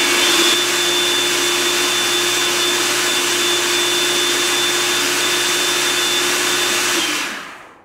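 Food processor running on a multigrain baking mix, a loud, steady, close whirring drone that holds for about seven seconds before winding down.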